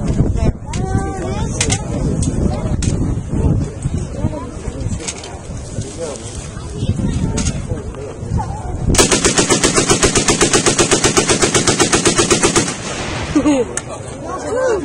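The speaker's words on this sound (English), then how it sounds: "That was the Soviet or the Russian DP-28 light machine." A Soviet DP-28 light machine gun fires one long, very loud rapid burst outdoors. Shorter single shots and talk come before it, and a few more shots follow.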